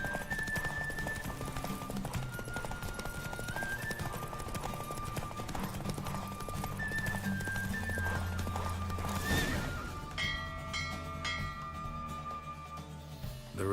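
Roach the horse gallops through a race in The Witcher 3, steady clip-clop hoofbeats driving under game music, with whinnies and neighs breaking through, loud and continuous to the end.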